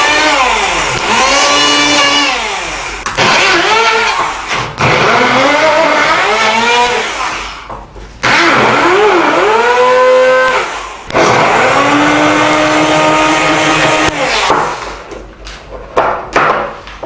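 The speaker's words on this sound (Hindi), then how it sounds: "मेरे पास ग्राइंडर है, मैं इससे इसका यूज़ करूँगा।" Electric grinder crushing onion into pulp, loud motor whine rising and falling in repeated bursts with brief pauses between runs, close and alone.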